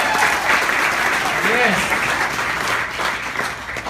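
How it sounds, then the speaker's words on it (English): Loud audience applause at a comedy show for members of the armed forces, a dense steady roar of clapping filling the room, with a voice briefly speaking over it. "Let's give them a round of applause."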